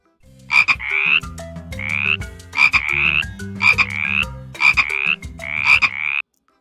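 A frog croaks in a regular series of six loud, close calls, each a quick grating burst followed by a brief tonal trill, with no talking.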